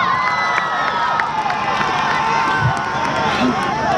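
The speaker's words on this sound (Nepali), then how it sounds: "उहाँको लागि जोरदार ताली प्लिज" A comedy show audience bursts into loud, continuous applause and cheering for a rapper being introduced, a dense crowd roar filling the whole stretch with scattered shouts.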